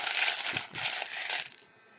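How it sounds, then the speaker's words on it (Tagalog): Loose coins drop and jingle into a coin holder, a bright metallic clatter of a few quick bursts close by, ending with a short settling tinkle before going quiet. "Ito yung barya."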